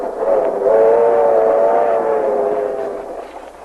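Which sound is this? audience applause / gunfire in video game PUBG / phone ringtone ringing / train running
train running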